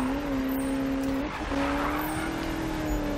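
A Ford Mustang drifts in Need for Speed 2015: a steady engine drone with a sustained tire squeal that wavers and dips briefly midway, loud and close throughout.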